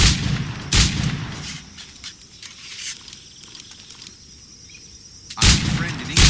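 A flintlock firearm in Assassin's Creed IV Black Flag fires in loud, broadband blasts, one near the start and another heavy report near the end, separated by quieter game ambience.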